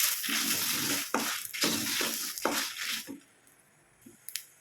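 Chili and coriander seeds roasting in a pan, giving a loud, dense dry crackling and rattling with rhythmic stirring strokes that fade to quieter, sparse clicks near the end.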